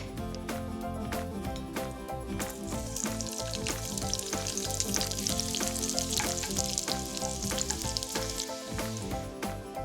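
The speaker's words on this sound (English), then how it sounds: "I'm gonna fry up some garlic." Garlic frying in hot oil for Thai deep-fried tamarind shrimp makes a loud, continuous sizzle that swells in the middle, heard up close with no voices.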